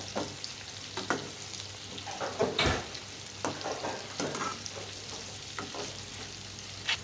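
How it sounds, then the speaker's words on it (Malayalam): Steady hot-oil sizzling of prawns frying for chilli prawns, with scattered pops and a few scrapes of a utensil, close and continuous with no talking. "നല്ല ഇടിവെട്ട് കൊഞ്ച് ചില്ലിയാണ് ഈ എണ്ണയിൽ കിടന്ന് പൊളിച്ചുകൊണ്ടിരിക്കുന്നത്."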